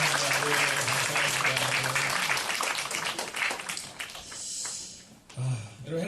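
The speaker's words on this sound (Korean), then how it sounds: "여러분 다시 한번 박수로 정리해 주시기 바랍니다." Audience clapping during a Sunday morning church service, dense applause filling the space for several seconds before tapering off, with a voice speaking near the end.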